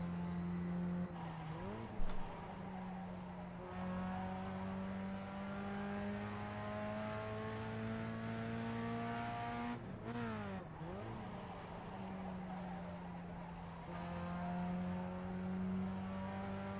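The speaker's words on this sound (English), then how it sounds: "So I'll let you enjoy the fast lap, hopefully." Pontiac Solstice lapping a track in the iRacing simulator, its engine droning steadily through the gears with sharp pitch shifts on downshifts and brief tire squeal, fairly quiet overall and with no talk.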